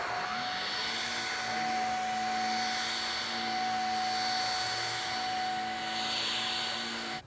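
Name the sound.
vacuum cleaner vacuuming an artificial turf putting green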